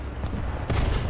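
A tank gun fires in the War Thunder video game, one sharp loud blast breaking in partway through over a low rumbling game background.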